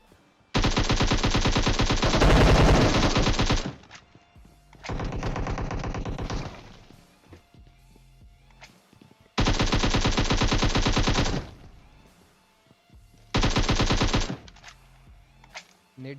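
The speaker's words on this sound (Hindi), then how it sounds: "लेकिन गोली ये लोग बराबर चलाते हैं" Automatic rifle fire in the PUBG Mobile game comes as several long, loud, rapid bursts separated by brief quiet gaps, close and dominant.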